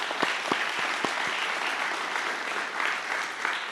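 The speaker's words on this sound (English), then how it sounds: "So give yourselves another round of applause." Crowd applause at a ribbon-cutting ceremony for a performing arts center, a steady wash of many hands clapping with a few sharper claps standing out near the start, continuing throughout without speech.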